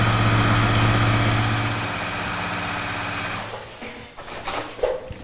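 A domestic sewing machine quilting on a Cutie Frame runs in a loud, steady, rapid mechanical whir for about three seconds, then slows and stops, leaving a few clicks and small handling knocks nearby.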